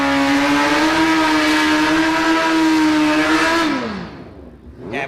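A supercharged 1340cc Suzuki B-King drag bike roars loud and close at a drag race, holding a steady high engine note for several seconds before the pitch drops away and fades.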